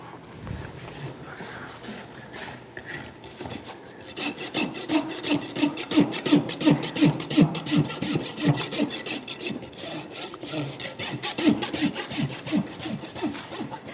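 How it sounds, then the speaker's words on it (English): A farrier works a rasp over a horse's hoof during trimming for high-low syndrome, giving steady, repeated scraping strokes at close range that grow louder and denser midway, with no talking. "I'm finishing rasping"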